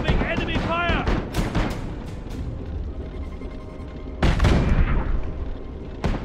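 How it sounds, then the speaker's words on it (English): Gunfire and artillery blasts in the Iron Harvest real-time strategy game, dense overlapping reports with heavy booms around four and six seconds, mixed with voice chatter and in-game sound effects. "Incoming enemy fire!"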